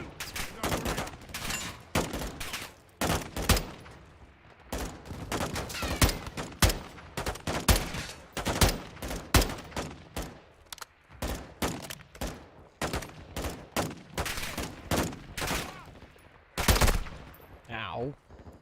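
Dense bursts of gunfire from Call of Duty Modern Warfare II ring out in rapid, irregular volleys, machine-gun rattles and single loud shots crowding together close and loud, with occasional voices mixed in.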